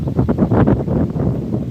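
Gusty wind buffets the microphone outdoors, producing a loud, continuous low rumble with uneven surges and no clear voice over it.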